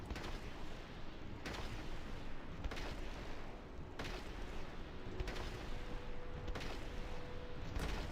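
Repeated heavy pistol shots in a modded Continuum game, each a sharp booming report spaced about a second apart over a steady rumbling background, fairly distant and muffled.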